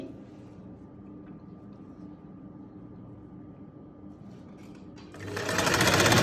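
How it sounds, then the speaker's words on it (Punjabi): A sewing machine stitches the side seam of a garment. A steady low hum plays at first, then loud, fast, continuous stitching starts near the end, close to the mic. "ਇਸ ਤਰ੍ਹਾਂ ਲਾ ਲੈਣੀ ਆ ਜੀ ਸਲਾਈ"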